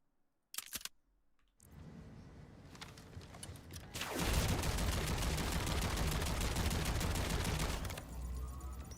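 Gunfire from a gun in the video game Where Winds Meet: a couple of sharp, loud shots, then a dense roaring burst of sustained firing that lasts several seconds before tapering off.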